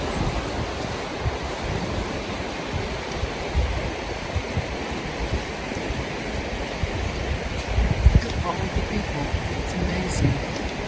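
A small stream of cold running water in The Narrows canyon rushes steadily and continuously, a broad close-up wash of flowing water with gusty wind noise and a few faint splashes or footfalls mixed in.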